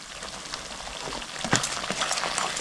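Turmeric and chili powder sizzling in oil in a hot pan over low gas while a Bengali fish curry with mustard and poppy seed cooks, a steady crackling hiss with a few sharper pops.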